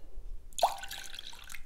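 A small amount of water trickles and drips into a bowl while preparing a teff starter for injera, a brief close pour that starts abruptly and tapers into faint splashing.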